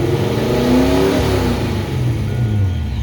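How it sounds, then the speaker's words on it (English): A supercharged Saleen Mustang engine revs loudly and close by, its pitch rising in a sweep and then falling back to idle, steady and alone with no talk. "it should be somewhat safe to get a little rev on it."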